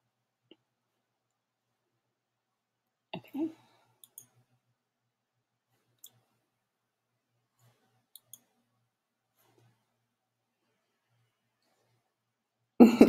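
A computer mouse clicks sparsely while scheduling posts in Tailwind, a few sharp isolated clicks scattered across near silence, with a brief louder rustle at the end.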